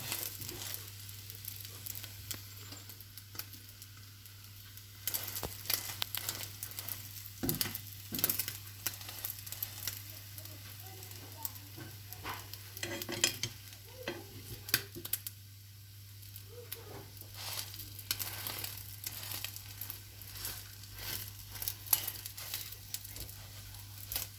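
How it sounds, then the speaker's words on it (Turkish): Egg frying in a pan for toast, a faint continuous sizzle with occasional crackles and small pops under a low steady hum, no talking. "Yumurtanın kızarmasını görüyorsunuz."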